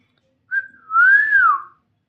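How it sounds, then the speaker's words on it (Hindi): A man whistles on a long trip to the Maihar temple: one short, clear chirp followed by a longer, close and loud tone that rises gently and then falls away, with no talking. "सीटी मार रहा हूँ बस"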